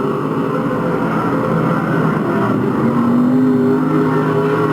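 A race car roars steadily and loudly through a turn during a local heat race, its engine note holding strong and climbing slightly toward the end.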